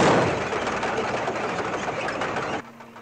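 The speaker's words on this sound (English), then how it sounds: "James Coburn running a backfiring Jeep in a low gear to make it sound like it was a tank" Jeep engine from a war film, run in low gear and backfiring to pass for a tank, giving a dense, loud, rumbling churn that holds steady for about two and a half seconds before cutting off.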